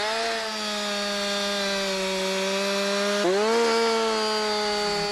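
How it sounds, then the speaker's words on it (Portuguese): A gasoline chainsaw cuts through wood, its engine holding a loud, steady high whine for about five seconds, the pitch dipping briefly as the chain bites harder, with no voices. "Pode serrar tanto com a parte superior da lâmina como a inferior."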